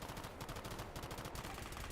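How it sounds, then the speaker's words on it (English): Gunfire in the video game S.T.A.L.K.E.R. GAMMA: a loud, dense stream of rapid shots in quick succession, like a burst of automatic fire, with no talking. "There's a lot of gunfire."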